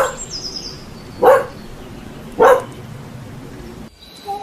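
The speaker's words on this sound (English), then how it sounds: "dog." A dog gives two loud, separate barks about a second apart. Faint bird chirps sound in the background.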